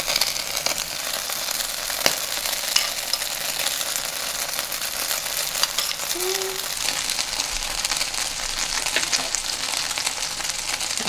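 Slices of Spam fry in a pan with teriyaki sauce, giving a loud, steady sizzle throughout with occasional clicks and scrapes.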